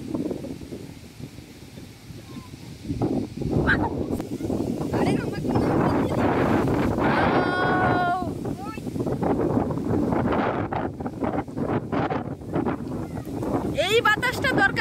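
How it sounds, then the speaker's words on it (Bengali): Strong gusting wind of a Kalbaishakhi storm roars and buffets the microphone in loud, shifting surges, while people talk over it throughout. "এই বাতাসটা দরকার ছিল, এই বাতাসটা"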